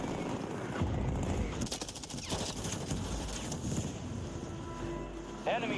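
Gunfire in the game Call of Duty Warzone, rapid automatic bursts in the middle of the span under wind and ambient game noise, with a voice talking over parts of it.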